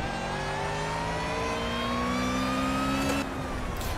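Supercharged 2-litre Honda Civic engine in an Ariel Atom at Silverstone in Project CARS, droning steadily loud and close with rising whine as it revs, continuous throughout.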